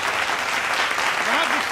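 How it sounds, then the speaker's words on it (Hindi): Audience clapping at a Hindi stand-up comedy show, a dense, steady burst of applause filling the room, with a faint voice rising briefly near the end. "एक बार तालियां बनती हैं"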